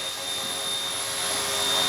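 Rotor whine and motor hum from an RC Era Bell 206 C138 ready-to-fly RC helicopter in flight, a steady high-pitched buzz with faint tonal whistles holding even throughout, close to the pilot with no talk.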